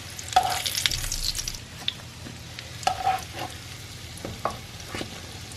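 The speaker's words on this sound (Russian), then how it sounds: "Все, теперь пусть жарится на второй стороне." Syrniki fry in fresh oil in a pan with a soft, steady sizzle, broken by a few sharp pops and spatters, fairly quiet and without talk.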